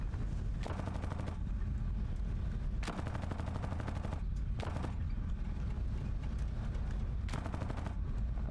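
Several short bursts of rapid machine gun fire from an enemy aircraft in War Thunder, rattling over a constant loud engine drone in cockpit view.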